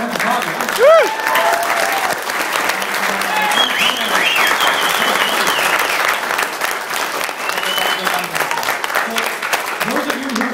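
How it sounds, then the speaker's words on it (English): A convention panel audience at a furry event gives a sustained round of applause, even and continuous, with a voice and a brief whistle-like tone heard over it early on. "A big round of applause for Kage"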